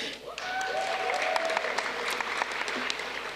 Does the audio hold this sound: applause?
yes